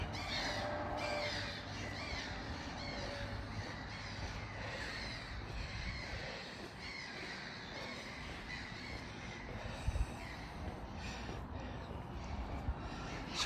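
Crows cawing outside a historic courthouse at Carrickfergus, a busy, continuous chorus of harsh calls layered over steady outdoor background noise, with a few sharper bursts near the end.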